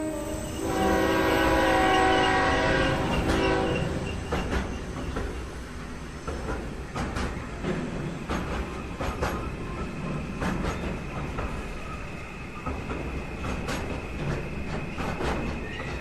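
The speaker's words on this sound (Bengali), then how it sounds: "লাস্ট ট্রেনটা ছাড়তেই বেশ লেট করেছিল।" A train runs on rails, opening with a loud, close horn blast that fades into a steady rumble and clatter of wheels and carriages for the rest of the stretch.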